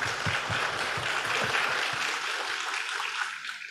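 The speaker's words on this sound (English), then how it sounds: "Give applause for Imam Basar Arafat" Seminar audience applauding for an imam after his talk, a steady round of many hands clapping at moderate volume that tapers off toward the end, with low voices murmuring underneath.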